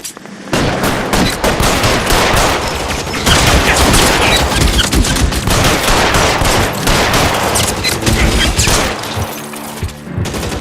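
Sustained video-game gunfire in a police shootout, loud and continuous with rapid overlapping bursts like automatic weapons and crashing impacts, filling the whole stretch after a brief quiet opening.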